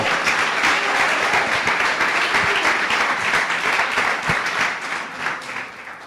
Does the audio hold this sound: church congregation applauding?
yes